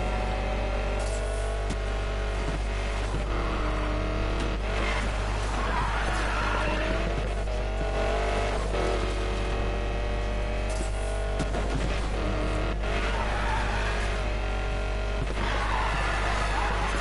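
A Mustang in Need for Speed Payback driving under a steady, droning engine note with intermittent tire skids and squeals over a constant low hum, moderately loud throughout.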